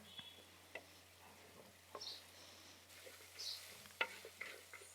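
Onion and chilli frying in a pan with a quiet, continuous sizzle and occasional soft scraping and tapping as they are stirred, faint and close, with a steady low hum underneath.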